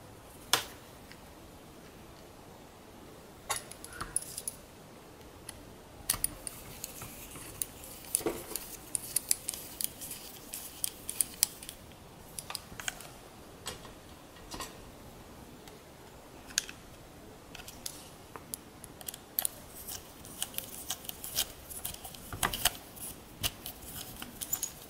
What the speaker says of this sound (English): I had to screw back all 4 screws on the tray.